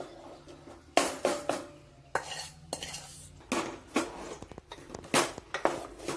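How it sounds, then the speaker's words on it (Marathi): Roasted semolina being stirred into boiling water in a pot over low heat, a spoon scraping and clinking against the metal in irregular close strokes with brief pauses, no voices. "भाजलेला रवा उकळलेल्या पाण्यामध्ये टाकायचा आहे आणि एकसारखे हलवत राहायचे"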